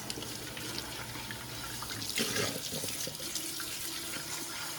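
Parts of a Hoover vacuum cleaner being washed under a running tap: a steady, close rush of water splashing into a sink, with shifting splatter as the pieces are moved under the stream, no talk.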